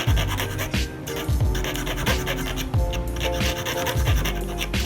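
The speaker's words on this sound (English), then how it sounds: "You keep filing until you create the shape that you or your client wants." A file rasps back and forth across acrylic nails, loud and close, in steady repeated strokes with brief pauses between passes.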